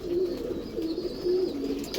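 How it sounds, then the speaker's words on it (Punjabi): A large teddy pigeon coos in soft, rolling low calls, three or four phrases in steady succession, fairly close and alone with no talking. "ਇਹ ਮੇਰਾ ਵੱਡਾ ਟੈਡੀ ਕਬੂਤਰ ਜਨਾਬ"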